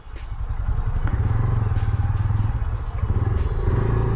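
A Bajaj Pulsar N125 125cc motorcycle engine runs steadily close by while riding, a continuous low throbbing hum with light mechanical clatter and no pauses.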